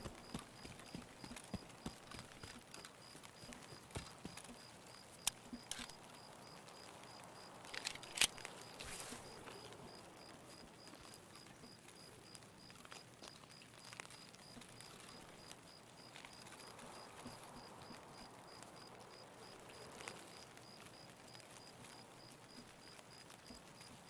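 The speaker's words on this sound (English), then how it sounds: "Rain sounds so crunchy, I keep thinking I'm hearing footsteps." Rain falling in a video game, a constant crunchy patter with scattered sharper ticks and brief louder taps, soft and steady throughout.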